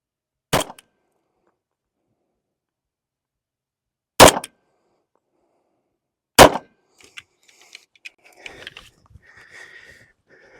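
Three sharp, loud pistol shots from a Ruger P90 firing .45 ACP at an outdoor range, spaced a few seconds apart and each ringing out alone against silence, followed by faint clinks and rustling.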